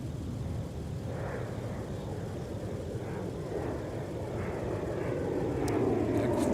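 Airliners queuing for departure at MSP airport give off a steady, loud jet engine roar that swells slightly toward the end, heard from a distance with no talk.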